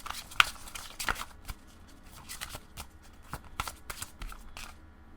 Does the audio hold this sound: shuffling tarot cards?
yes